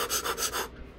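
Rapid, rhythmic Wim Hof style breathing, about four quick forceful breaths, close and fairly soft, ending in a short quiet pause.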